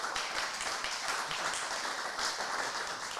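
Steady applause from a press conference audience, a dense continuous clatter of many hands at moderate loudness throughout the short span.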